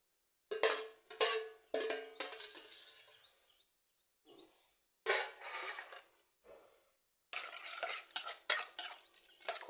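A utensil clinks and scrapes against a bowl while a Lao pork intestine salad is stirred, in several short bursts separated by pauses, close and fairly quiet.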